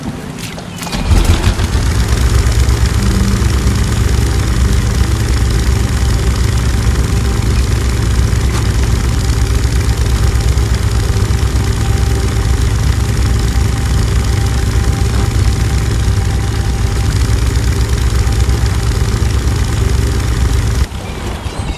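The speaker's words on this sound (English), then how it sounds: "I'm gonna ride in a streetcar" A streetcar engine in the video game The Sinking City gives a loud, steady low rumble and hum that starts abruptly and runs unbroken before cutting off near the end.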